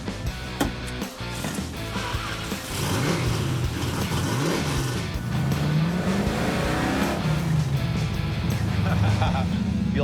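A Chrysler Mirada car pulls away and accelerates on small roads, its engine note rising steadily and staying loud and close, with some talk over it.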